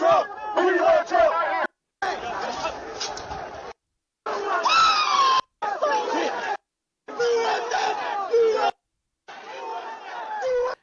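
A crowd surges and shouts at the U.S. Capitol on January 6, with chanting and yelling voices cut into choppy bursts separated by gaps of silence.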